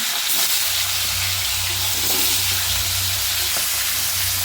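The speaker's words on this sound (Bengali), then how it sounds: "এখন আমি কড়াইতে মাছগুলো দিয়ে দিচ্ছি" Fish fry in hot oil in a wok with a loud, continuous crackling sizzle and hiss, steady throughout with no pauses.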